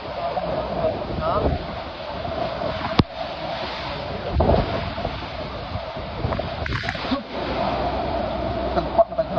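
Strong wind buffets the microphone in gusty rumbles, with surf-like rushing and people talking intermittently underneath.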